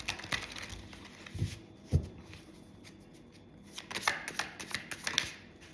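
Tarot deck shuffled and cards drawn, producing soft papery riffles and slaps with a few sharper card snaps, fairly close and quiet, no talking.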